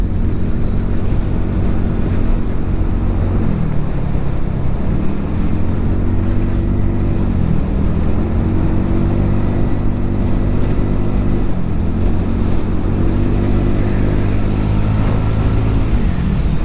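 A TVS NTorq 150 scooter ridden flat out near its top speed of about 107 km/h gives a steady, loud engine drone buried in heavy wind rush, with the pitch gently dipping and climbing as the throttle shifts.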